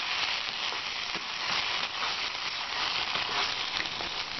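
Masala with salt frying in a pan for an aloo gobi matar curry, a steady close sizzle and hiss with scattered small crackles, continuous and even, no voices.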